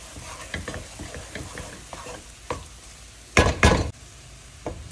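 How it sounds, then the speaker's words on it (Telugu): A spoon scrapes and clatters through samosa potato curry filling with peas, onion and masala powder in a pan, giving irregular close stirring knocks over a soft sizzle, with two louder scrapes near the end. "మసాలా పౌడర్ వేసాను కదా, ఒకసారి కలిపేసి పక్కకు పెట్టేస్తాను అనమాట"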